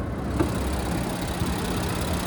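A 2026 Nissan Pathfinder's 3.5-litre naturally aspirated V6 idles steadily close by, a low even rumble with faint mechanical ticks and no voices.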